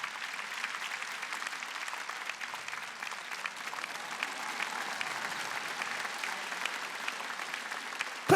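A church congregation applauds in a steady, even wash of clapping from many hands that holds throughout, moderately loud and slightly distant.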